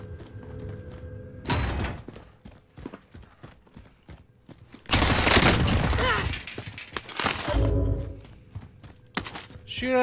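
Gunfire in the Warzone video game, with sudden loud sustained bursts of automatic shots and scattered single cracks mixed with game noise.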